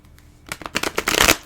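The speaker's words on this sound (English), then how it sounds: "I'm just going to shuffle the tarot cards here a few times." Tarot cards being shuffled close up: a burst of quick riffling and soft slaps building to a dense flutter, loud and alone.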